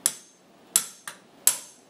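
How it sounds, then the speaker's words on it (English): Sharp metal hammer taps striking a second hammer's claw set around a roll pin in a drill rifle receiver, four distinct close, bright strikes at uneven intervals with quick decays and no talk. "Use the second hammer to tap in lightly"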